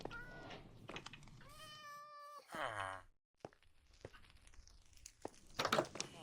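A cat meows several times in short, rising calls from slippers in the video game Minecraft (All The Mods 10 modpack), with brief crinkly rustling between them, fairly close and clear.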